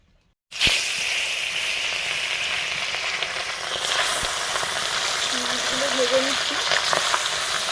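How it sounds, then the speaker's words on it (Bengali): Chitol fish frying in a wok: a steady, close sizzle with a bright hiss that runs throughout after an abrupt start, with occasional faint clinks and a brief low murmur. "এই কড়াইতে চিতলগুলো ভাজছি, চিতল মাছ।"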